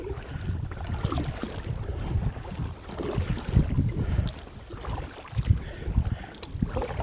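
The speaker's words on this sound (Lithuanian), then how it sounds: "Valtis stabiliai plaukia į priekį, va pasiiriau ir plaukia tiesiai." A kayak moves through swamp water, with soft uneven paddle splashes and water swishing close by under light wind noise on the microphone, and no voices.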